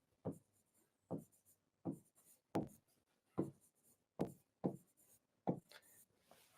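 Chalk or marker on a board makes eight short, evenly spaced scratching strokes, close and fairly quiet, each one brief and separated by silence.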